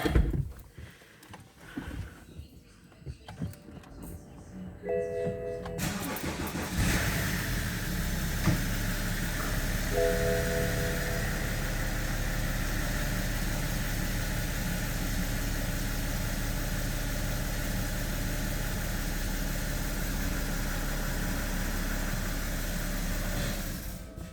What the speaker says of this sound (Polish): chwilowe odpalenie silnika po zalaniu oleju